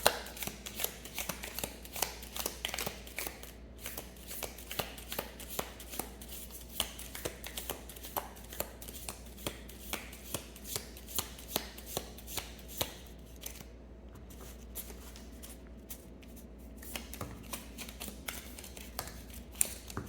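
Tarot cards are shuffled by hand in a quiet room, giving a long run of soft, irregular riffling snaps and taps close by with no talking.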